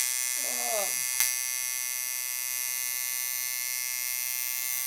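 A tattoo machine buzzes steadily and close while inking skin, a constant electric whine throughout, with a brief voice near the start and a single sharp click.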